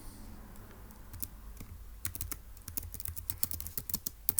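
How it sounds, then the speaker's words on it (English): Typing on a computer keyboard, a quick irregular run of close key clicks that grows busier and louder toward the end, with no voices. "So let's go ahead and type that up"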